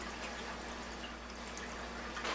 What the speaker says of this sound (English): you want to run this water for about 10 seconds is how long it's going to take to get the solution throughout the machine